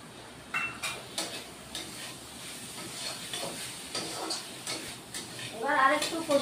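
Fried, washed mung dal goes into a pan with potatoes for a papaya sabji and is stirred, producing soft scraping and clinking of a spoon on metal over a faint steamy hiss, with a voice briefly heard near the end.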